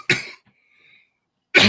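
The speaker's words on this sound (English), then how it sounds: "one last cough to end the show here" Two sharp coughs from one person close to the mic, separated by a short quiet gap.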